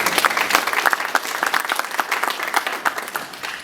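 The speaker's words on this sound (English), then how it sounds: "so give a round of applause to y'all for coming." An audience applauds at a ceremony honoring a Memphis Tigers football great, a dense, steady burst of clapping from many hands that carries on throughout.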